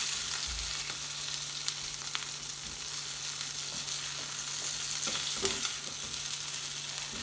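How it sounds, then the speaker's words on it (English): Lamb pieces fry in a pan with a steady, close sizzle, broken by scraping stirs from an aluminium spoon; no one speaks. "lightly fry the lamb"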